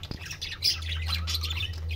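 Australian budgerigar parakeets in a breeding setup squawk and chirp continuously over two seconds, a dense chatter of overlapping calls over a low steady hum, fairly close.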